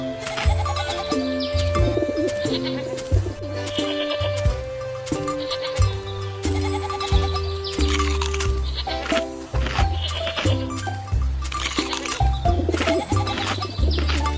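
Animated cartoon goats bleat in short, repeated calls among bright tonal effects and music-like tones, all fairly loud and continuous.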